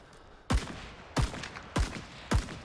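Rifle fire in the Rising Storm 2 video game, ARVN weapon: four loud, sharp single shots spaced evenly about six-tenths of a second apart, each with a short echoing tail, no talking.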